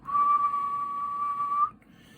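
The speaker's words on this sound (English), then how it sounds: "you would blow into the whistle when it's empty" A two-note whistle on an empty unspillable spit cup is blown once, its two matching pitches merging into a single steady, clear, bright tone held for about a second and a half before stopping abruptly.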